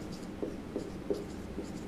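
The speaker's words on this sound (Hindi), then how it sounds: "ठीक है, यहाँ पर लिख देते हैं" Chalk or a marker writes on a board in a biology classroom. It makes a few short, faint, evenly spaced strokes, and there is no talk.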